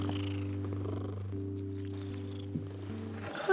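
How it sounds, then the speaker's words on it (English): A soft, friendly pet cat purrs close up in a steady, low rhythmic rumble that continues evenly, with faint background rustling near the end. "Listen. She's purring."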